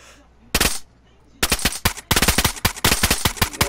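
Video-game gunfire: a short burst of shots, then a pause, then long rapid automatic bursts that come loud and close, with no talk over them.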